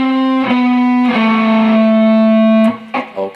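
Distorted electric guitar plays a run of eighth notes on the blues scale with effects, sustained bright notes changing in steady succession and a quick flurry at the end, loud and alone.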